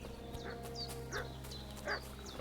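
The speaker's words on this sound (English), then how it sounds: "Hear the dog barking." A dog in Kingdom Come: Deliverance II barks repeatedly, a string of short yapping barks at moderate distance over a low steady game ambience, no voices.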